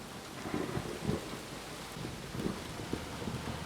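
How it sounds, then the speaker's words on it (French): A thunderstorm hangs over a carpentry building site: steady heavy rain hisses throughout while low rumbles of thunder roll in several soft swells, fairly distant and without voices. "La foudre s'abat depuis des heures sur son chantier."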